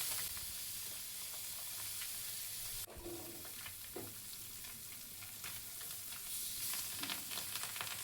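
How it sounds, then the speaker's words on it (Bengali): Pabda fish coated in turmeric, chili and salt sizzle and crackle steadily in hot oil in a wok, a close, continuous frying hiss with scattered pops and a brief clatter partway through. "একটা কড়াইতে তেল গরম করে আগে থেকে হলুদ মরিচ লবণ দিয়ে মাখিয়ে রাখা পাবদা মাছগুলোকে এপিট করে ভেজে নেব"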